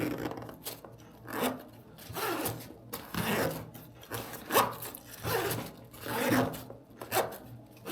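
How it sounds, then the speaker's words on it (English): Zipper on outdoor gear being unzipped and rezipped after a coat of Gear Aid zipper lube, giving about five close, quick rasping runs of the slider in a steady back-and-forth rhythm with no talk. "Here, I'll unzip, and then I'll rezip."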